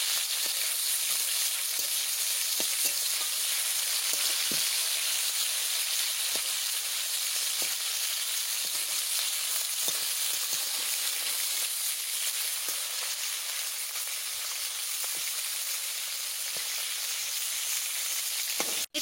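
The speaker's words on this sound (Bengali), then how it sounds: "মাছটা নাড়াই নিচ্ছি, ভাজা হয়ে গেছে প্রায়, ওই এক সাইড হয়ে গেছে" Fish frying in a pan, a constant bright sizzle and hiss of hot oil with faint scattered ticks and pops, steady and close throughout.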